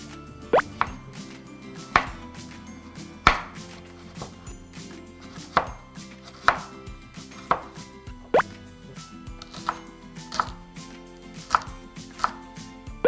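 A knife chops carrots on a cutting board for a stir-fried mushroom japchae, sounding as a steady series of crisp, close thuds about one per second with no talking.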